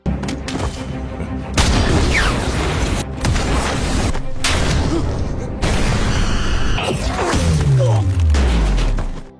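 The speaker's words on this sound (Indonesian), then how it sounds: "tiba-tiba ada dua orang sniper yang menyerang dari jarak jauh" Sniper gunfire in an action film: several heavy booming shots and thuds punctuate a loud cinematic mix, with a descending whooshing effect near the end.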